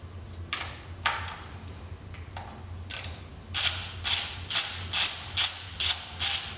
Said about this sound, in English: Next I'm going to remove all of these valve cover bolts.